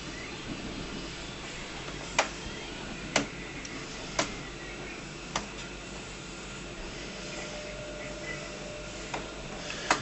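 Epson BX300F printer fitted with a continuous ink supply system working through its cartridge charging cycle, giving a low mechanical hum broken by sharp clicks and ticks at irregular intervals.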